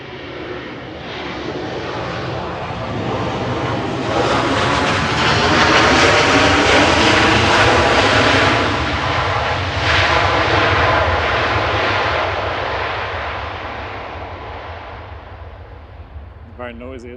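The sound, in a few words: Boeing 757 jet taking off at Manchester Airport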